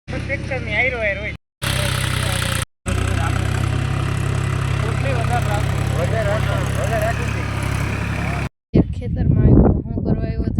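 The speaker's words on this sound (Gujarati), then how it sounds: "જો દેખાય તમને બોરવેલ હાલે હે" The engine of a borewell pump chugs steadily in a farm field, a continuous mid-pitched rumble broken by a few short gaps, while someone talks nearby.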